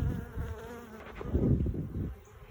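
A dense, low buzzing of many honey bees close by, swelling and fading as they swarm around a hive box, with no voices.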